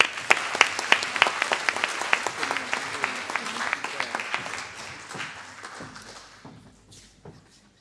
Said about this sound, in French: Merci Suzanne, on peut l'applaudir.